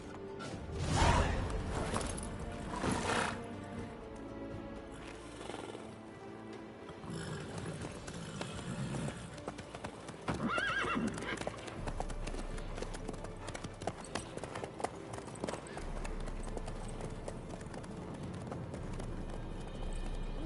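A horse in The Witcher game clip-clops at a steady gallop over about twenty seconds, hoofbeats fairly quiet and continuous, with a brief whinny near the start.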